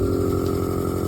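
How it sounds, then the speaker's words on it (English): A vacuum tester hums steadily on the valves of a Jaguar XKR engine cylinder head, a constant motor drone with no pauses, loud and close. "and stick the vacuum tester on"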